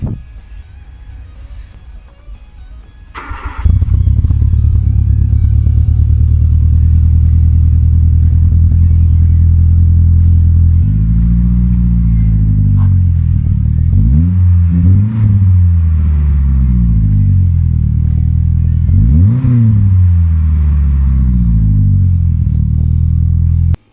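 A car engine with a new stainless steel intermediate and rear exhaust silencer starts up and idles with a deep, loud rumble, then is revved in several rising and falling pulls.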